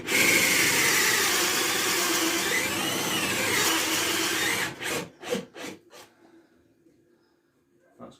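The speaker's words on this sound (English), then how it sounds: "Okay, carry on drilling." Cordless drill with a nearly flat battery boring into material for a homemade hobo reel, a loud steady whine that wavers, then stops and gives way to several brief bursts that fade out.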